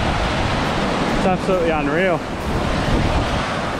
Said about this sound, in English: walking down through these awesome waterfalls.